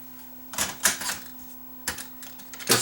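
A 1979 Technics RS-M63 three-head cassette deck plays a tape back badly, giving scratchy, uneven clicking bursts in irregular clusters over a steady low hum.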